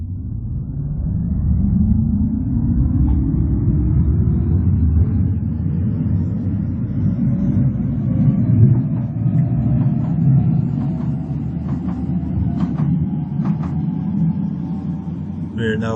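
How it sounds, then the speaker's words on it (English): Amsterdam metro S3 train in a Metrosimulator game pulling away, a loud low rumble with a slowly rising motor whine that stays steady and close throughout. "Let's wait until this train has started."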